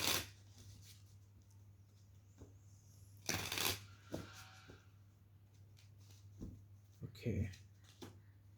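Playing cards are picked up and set down on a table in a few soft, brief slides and taps near the microphone, quiet against a low hum, while a person talks over them.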